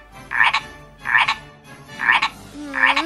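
Frog croaking up close, four evenly spaced raspy croaks about three-quarters of a second apart, clear and alone apart from a faint background hum.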